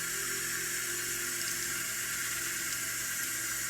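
Water runs steadily from a tap while a hand scrub brush is rinsed during handwashing, a continuous close splashing hiss with no gaps.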